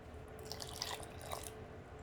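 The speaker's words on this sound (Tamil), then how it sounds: "அதுக்காக நான் 3 கிளாஸ் சின்ன கிளாஸில் தண்ணியை ஆட் பண்ணுறேன்." Water is poured into ground coconut in a kitchen to draw out the milk, giving a short, soft trickle and drip of liquid close by.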